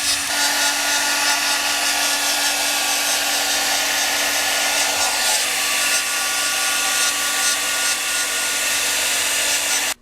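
A heat gun blows a steady, loud airy whoosh with a faint hum while masking tape is peeled off a motorcycle fairing, continuous for the whole stretch with no talk.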